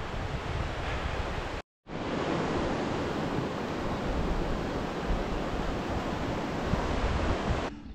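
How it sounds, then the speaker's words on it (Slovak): The Vidra river rushes past in a loud, steady broadband roar, close to the microphone, with a brief dropout near the start and no talk over it. "Tak toto je Vidra za nami, rieka Vidra"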